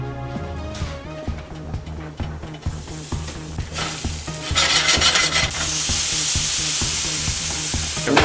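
A soft shell blue crab, dusted in flour and blackened seasoning, sizzles loudly in a very hot pan, with steady crackling spatter and intermittent stirring clicks that build into a dense, continuous hiss.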